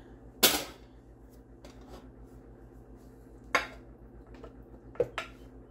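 A metal spoon clinks sharply against dishes as ground beef and other ingredients go in for carnivore bread, with one loud knock near the start and a few lighter taps later over a quiet kitchen background.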